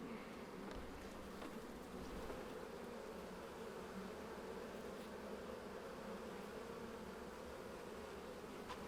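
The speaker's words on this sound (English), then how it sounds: "There's a drone bee." Bees buzz steadily around an open beehive in a Sunshine Coast apiary, a dense, continuous hum of many insects close by with no talk.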